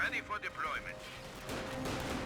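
Bursts of Vickers machine gun fire in the Company of Heroes 2 video game, several short clattering volleys in quick succession, then a denser rumble of battle noise beneath them.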